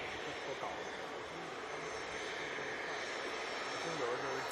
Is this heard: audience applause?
no